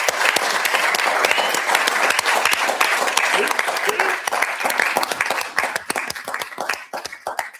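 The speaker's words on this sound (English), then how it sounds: "So please join me on giving Rick Landsrath a very well-deserved round of applause" Audience at a city council meeting gives a sustained round of applause for a retiring employee, dense clapping that thins toward the end with some voices mixed in.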